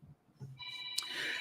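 A mother's mobile phone rings nearby, its electronic ringtone starting partway through, thin and fairly faint, preceded by low rustling.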